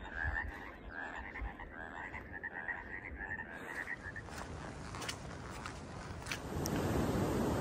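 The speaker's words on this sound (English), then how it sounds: "Some loud frogs." Loud chorus of frogs croaking continuously near a creek along the Pacific Crest Trail approaching Yosemite, a dense rhythmic pulsing close by with steady water noise underneath.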